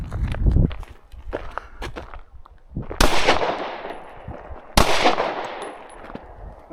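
Two sharp gunshots from a Glock 19 or AR-15 fired at a target dummy ring out loud and close, each followed by a long echoing tail, preceded by scattered softer clicks and shuffling.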